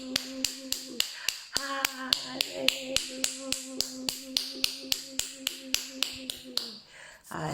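A morning prayer congregation claps for Jesus in a steady, sharp beat, each clap crisp and evenly spaced. The clapping keeps time with singing voices and sustained musical tones underneath, then stops abruptly near the end.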